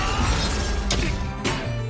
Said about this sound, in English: He smashes Julius's armor like it's made of papier-mâché and slams him into the ground